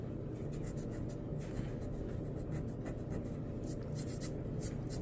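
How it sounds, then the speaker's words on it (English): Pencil line being erased from paper while working on a demon skull drawing, a steady soft scrubbing rasp that runs continuously and close throughout, with no talking. "but we'll kind of erase that"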